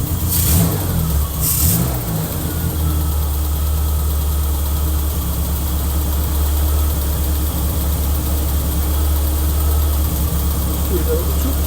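A JC Midge engine with SU carburettors, mid-service, gets two quick throttle blips near the start that flare loudly, then settles into a steady, close idle hum while voices talk nearby.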